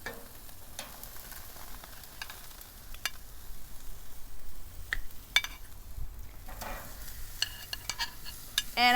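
Vegetables and mushrooms being placed on a BBQ grill give a low steady sizzle, with scattered clicks and scrapes as pieces are set down and shifted around.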